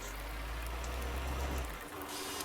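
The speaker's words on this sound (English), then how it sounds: "as you can tell, the rain is falling" Rain falls on a grass field due for ploughing, heard as a soft, steady hiss with low rumble beneath, faint and continuous, without voices.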